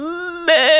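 A person imitates a goat's bleat with a steady tonal voiced note, then breaks into a louder, wavering, rougher bleat for its second half; close and fairly loud.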